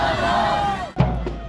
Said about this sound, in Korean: 시민들은 버스를 뒤따르며 환호하고